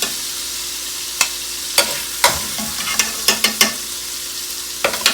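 Bacon rendering and frying in a sauté pan, with a steady sizzle broken by sharp clicks and scrapes of a utensil moving the strips, close and fairly loud, no talking.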